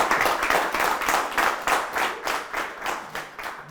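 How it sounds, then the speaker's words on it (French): A group claps in a steady, rhythmic pulse of close, bright hand claps that holds a regular beat for a few seconds. "on applaudit"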